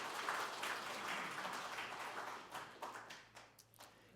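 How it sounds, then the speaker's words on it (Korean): An audience claps at a Buddhist spring dharma ceremony held in a national assembly hall, a steady wash of applause that thins out into scattered, fading claps toward the end. "큰 박수 부탁드립니다"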